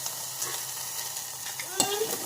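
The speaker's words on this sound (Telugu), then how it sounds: "కొంచెం కలపాలి." Egg being stirred into rice in a hot pan, a close, steady sizzle with a few light scrapes and a sharp clink near the end.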